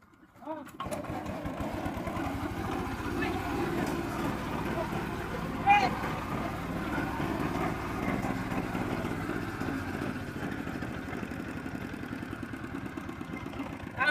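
A human voice imitates a machine engine starting, holding a buzzing, sputtering drone that runs steadily for several seconds at moderate loudness.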